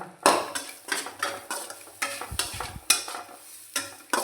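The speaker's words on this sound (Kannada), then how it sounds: "ಎಲ್ಲವನ್ನು ಸೇರಿಸಿ ಫ್ರೈ ಮಾಡುವ" A spoon scrapes and knocks in a pan as jackfruit and chickpeas are stir-fried with turmeric and grated coconut, a series of close, rhythmic stirring strokes with a faint sizzle underneath.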